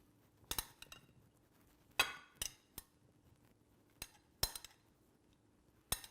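Utensils clink and knock against a bowl as beets are tossed for an arugula salad with walnuts and gorgonzola, giving a handful of sharp, separate clinks spread irregularly through a quiet kitchen.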